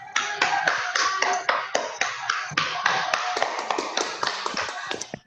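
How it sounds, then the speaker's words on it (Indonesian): Classmates applauding in a classroom, a loose, uneven run of sharp individual claps from a modest group, close and distinct, tapering off raggedly at the end. "Oke, yang lainnya coba dulu kasih applause sama temannya yuk. Tepuk tangannya dulu, kasih applause."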